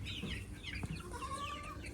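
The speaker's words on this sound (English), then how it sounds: "Here's my chickens. They're all growing good." Young chickens in a brooder cluck and chirp softly, close by, in short overlapping calls with faint background noise.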